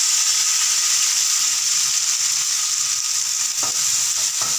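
Steady, loud sizzling of spices frying in a hot pan for garlic pepper rasam, continuous hiss with a few faint clicks of stirring near the end.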